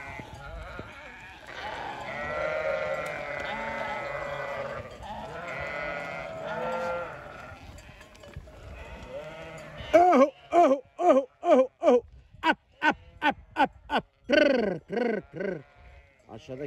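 Sheep bleat on a mountain pasture in the Nurhak mountains: a wavering flock chorus under a voice, then a rapid run of sharp, close bleats tumbling over one another.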